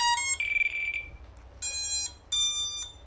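Bright electronic tones from an AxisFlying Manta 5 SE V2 drone's electronics starting up: a quick burst, a longer falling tone, then two sustained high beeps, clear and close.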